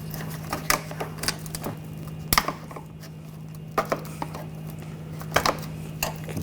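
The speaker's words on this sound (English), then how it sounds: "using a trim tool, get underneath. Just pry this out off the studs." A trim tool pries plastic clips of an engine splash shield off their studs on a 2014-2020 Nissan Rogue, giving sharp irregular clicks and snaps, close up over a faint steady hum.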